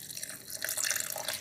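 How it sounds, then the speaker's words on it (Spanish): A short splash of water is poured into a blender jar while preparing a rustic-style tartar sauce. It makes a bright, close trickle and patter that lasts about a second, with no voices. "vamos a echarle un chorrito de agua"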